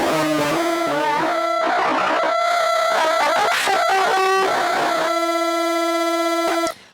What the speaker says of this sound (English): let's play something totally crazy with pitch shifting mode